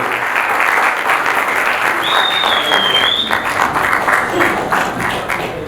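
Loud, sustained audience applause fills a Bhojpuri film industry premier league player auction, a dense steady wash of clapping with a brief whistle-like tone partway through.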